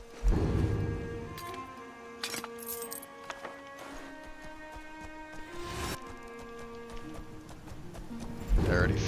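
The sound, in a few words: horse hooves galloping in video game Skyrim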